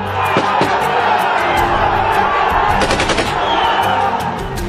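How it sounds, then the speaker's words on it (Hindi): Gunfire from an AK-47 and a pistol fired indiscriminately by militants crackles in rapid bursts of sharp shots. The shots are loud, dense and repeated over a continuous rumble of crowd noise and shouting. "हाथ में AK-47, दूसरे के हाथ में पिस्टल, अंधाधुंध फायरिंग।"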